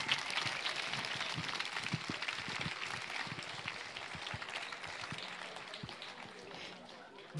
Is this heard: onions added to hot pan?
no